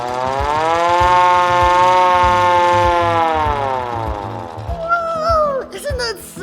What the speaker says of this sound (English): this is the siren.